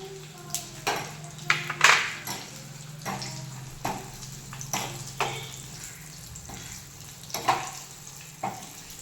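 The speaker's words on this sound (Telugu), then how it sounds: "ఇప్పుడు వెల్లుల్లిపాయలు వేద్దాం" Garlic going into dal frying in a pan, a gentle sizzle with scattered clinks and stirring knocks of a utensil against the pan, close and fairly quiet, with someone talking over it now and then.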